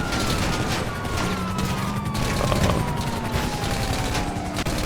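Rapid automatic gunfire rattles in dense, continuous bursts in the GTA Online video game, loud and close, with a faint siren tone sliding in the background.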